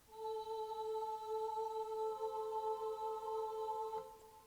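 GarageBand classical ensemble choir preset holding one sustained, steady synthesized vocal tone for several seconds, clean and even, without any other sound.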